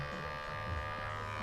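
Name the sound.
electric hair clippers cutting dry hair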